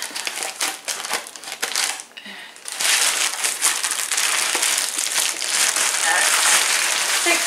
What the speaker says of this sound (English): Take the bag off.